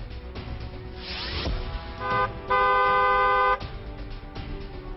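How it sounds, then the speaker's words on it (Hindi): A vehicle horn blares one loud sustained honk lasting about a second, set against rumbling traffic and passing engine noise. "इसीलिए सावधानी वाला हॉर्न बजाना जरूरी है"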